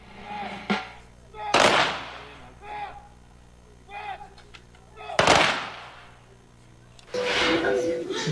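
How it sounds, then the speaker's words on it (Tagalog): Rifle volleys of a gun salute ring out at a police commando's military funeral, several sharp loud reports spaced a few seconds apart, with echoing decay and speech between them. "Hinandugan din siya ng 21 gun salute."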